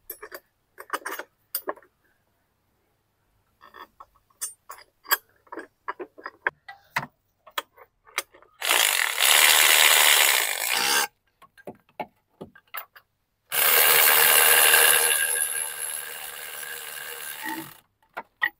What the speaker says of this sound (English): Now I'll put these bolts back in.